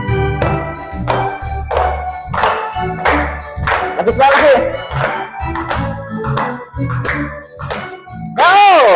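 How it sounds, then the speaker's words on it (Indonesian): Classroom applause from children, rhythmic bursts of clapping in a patterned beat mixed with voices and a short spoken phrase. "Tepuk tangan buat kita semuanya."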